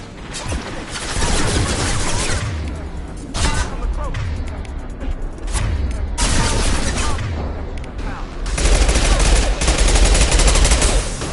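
Sustained gunfire in the Mass Effect 2 combat game: loud, rapid bursts of automatic fire with booming impacts, nearly continuous and in waves, under shouted voices.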